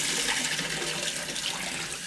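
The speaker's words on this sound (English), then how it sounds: "I wash them 1 time to get the starch out of it" Water runs and splashes steadily as soup ingredients are rinsed to wash off starch in a kitchen, a loud, close, continuous gush with no voices.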